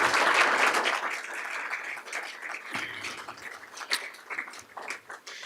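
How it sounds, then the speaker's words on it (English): A school board meeting audience gives another round of applause, fairly loud at first and then thinning into scattered individual claps. "If we could give them one more round of applause"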